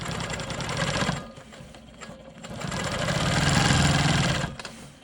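A sewing machine quilts a rolling stone block, stitching in the ditch around a triangle with a rapid, continuous mechanical chatter that slows briefly in the middle before running up again, close and steady.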